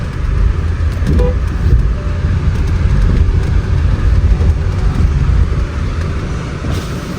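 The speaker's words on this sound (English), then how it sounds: "The vehicle is back to life." A Range Rover Evoque engine runs steadily after a misfire repair, a loud, continuous low rumble close by with a constant level throughout and no talk.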